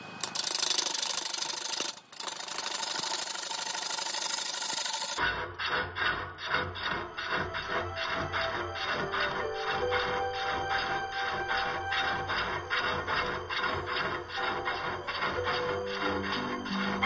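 Wood lathe turning a burl while a tenon is cut, a loud harsh scraping burst first, then a steady rhythmic chatter of the tool against the spinning wood, close and continuous.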